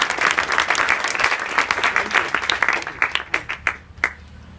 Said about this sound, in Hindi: इनके लिए एक स्पेशल ताली बजाओ फिर से।